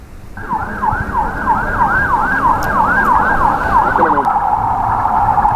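An ambulance carrying casualties to a hospital in Nabatiyeh, southern Lebanon, wails with a loud, close, rapidly warbling siren that holds steady over rumbling road traffic for several seconds.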